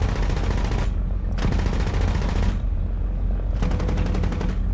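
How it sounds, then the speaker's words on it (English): Cockpit-view firing of a 13 mm aircraft machine gun in War Thunder: loud, dense rapid-fire bursts, three long strings separated by brief pauses, with no talking. "So there's a new firing sound for the 13 mil."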